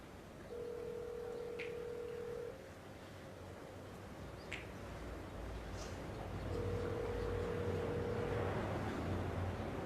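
Telephone dialing tones during a phone call, two sustained steady beeps separated by a gap, over faint background hiss and a few soft clicks, with no talking.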